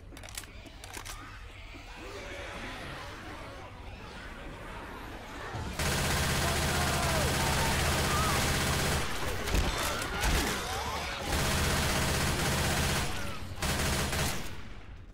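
Gunfire in the video game Left 4 Dead 2 on the Loony Park map, a dense sustained barrage of rapid shots that starts abruptly and runs loud with brief pauses, preceded by quieter scattered shots.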